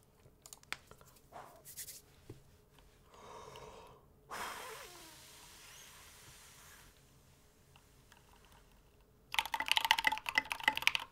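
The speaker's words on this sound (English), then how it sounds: "But this is what this board sounds like." A RAMA M60-A mechanical keyboard with SA keycaps is typed on up close: scattered clicks and a few breaths come first, then a dense, rapid burst of keystrokes at the end.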